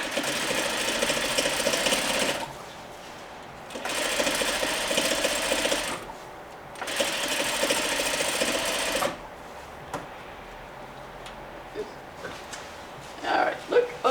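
Sewing machine stitching a seam on a Parsons chair slip cover, three bursts of rapid even motor-driven stitching separated by short pauses, then quieter handling sounds and small clicks.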